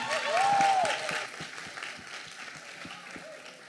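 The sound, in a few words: audience applause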